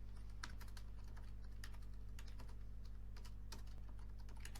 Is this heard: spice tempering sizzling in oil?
no